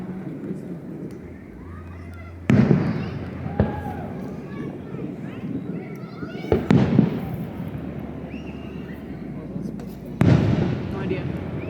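Fireworks at a 4th of July town display, sharp booming bursts heard four or five times at irregular intervals, some distance away, with people chatting in between.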